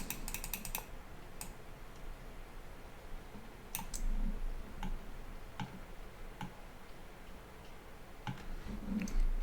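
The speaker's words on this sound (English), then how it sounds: "So I'm left clicking while holding shift." A computer mouse clicks sharply while a 3D head is modelled in Blender 3.3, the clicks coming in a quick burst and then scattered singly over quiet room hiss.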